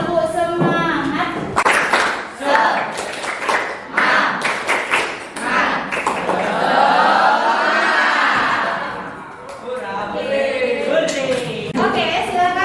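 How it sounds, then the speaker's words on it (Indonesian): A school class performs a rhythmic spirit clap together, with sharp group claps in bursts mixed with chanting voices and shouts, close and loud in the classroom. "Tepuk semangat."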